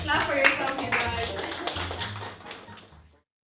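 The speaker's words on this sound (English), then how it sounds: "Clap for yourself, you guys." Webinar participants clap for themselves over a call, a few light, uneven claps and taps mixed with voices, fading out after about three seconds.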